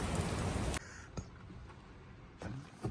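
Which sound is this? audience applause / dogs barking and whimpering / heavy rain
heavy rain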